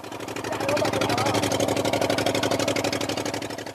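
A loud, steady diesel boat engine carrying migrants and refugees drones up close with a fast rhythmic throb, filling the whole clip without a break.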